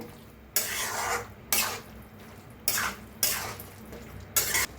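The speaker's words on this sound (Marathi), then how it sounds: "आणि एकदा भाजीला मिक्स करून घेऊया" Five loud, scraping strokes of a spoon stir a sizzling potato and aubergine curry in a metal pan, with short pauses between them. No one speaks.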